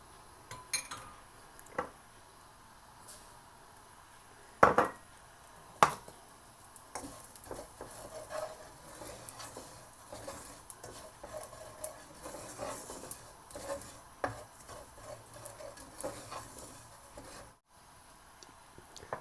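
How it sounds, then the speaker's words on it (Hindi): Poppy seeds fry in a kadhai with a low, faint sizzle, scattered metallic clinks and scrapes of a spoon against the pan, and a couple of sharper knocks. "अब उसी कढ़ाई में हम खसखस को थोड़ा फ्राई कर लेंगे"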